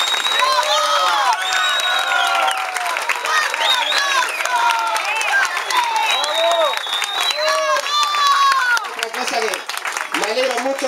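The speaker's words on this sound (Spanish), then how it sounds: "Por eso pido un aplauso gigante para ellos," A crowd applauds and cheers for a sports team, with loud continuous clapping and many excited shouting and cheering voices, including some high-pitched ones, sustained throughout.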